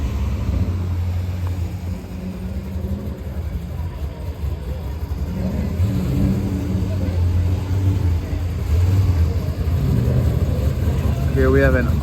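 An Audi S5 and a Camaro racing, their engines giving a continuous low rumbling drone that swells slightly toward the end, with voices faintly mixed in.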